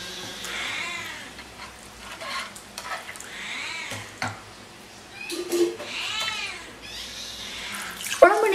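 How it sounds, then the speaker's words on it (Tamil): Water splashes and a spoon stirs in a pot of vatha kulambu (tamarind curry) with repeated swishing scrapes, close and moderately loud, ending with a clink. "தண்ணி ஊற்றிட்டு நல்லா கலக்கிக்கோங்க"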